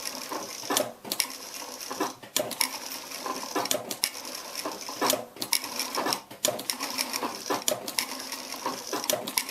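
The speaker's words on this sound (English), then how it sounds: "Make a relatively small stitching on your machine." Sewing machine stitching a small stitch on fabric for a yin-yang pillow cover, a busy run of close mechanical clatter and clicks with short pauses between bursts, steady and fairly near, no voices.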